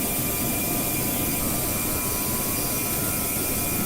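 Steady, loud roar of A320neo Pratt & Whitney jet engines in flight within the GeoFS flight simulator, a continuous broadband drone with faint tonal whine and no talk over it.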